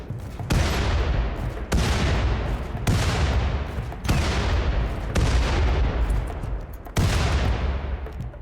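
Gunfire in the RimWorld video game: a series of loud, sharp shots or volleys about once a second, each decaying into a short rumble, steady and close.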